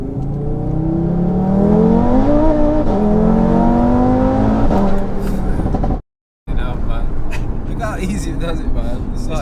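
A 740bhp four-wheel-drive Audi RS3 accelerates hard through second gear, its engine note rising steadily, heard from inside the car with people talking over it and a brief dropout near the end.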